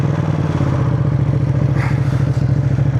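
Ducati Panigale V2 twin engine at a steady loud thrum with a pulsing, uneven beat, heard up close while riding.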